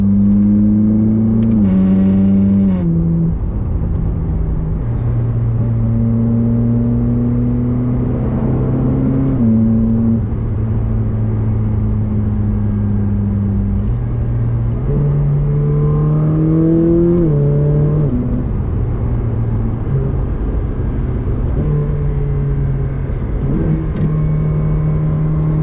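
A 2015 Ferrari 458 Speciale driven hard from inside the cabin, its engine climbing in pitch through repeated revving accelerations, with sharp drops at gear changes. The engine note is loud and close and continues without speech.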